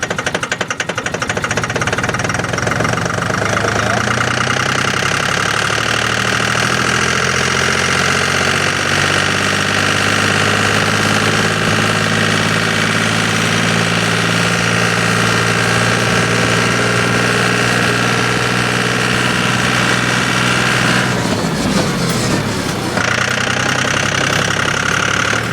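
A John Deere tractor engine runs steadily and loudly the whole time, a constant close rumble with a shift in tone and a louder jolt of vibration near the end.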